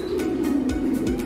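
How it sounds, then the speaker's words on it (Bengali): An English Lahore Siraji pigeon coos nearby, soft repeated low throaty coos in a steady rhythm over a faint background hum. "অনেক সুন্দর সুন্দর অনেক দামি কবুতর আছে"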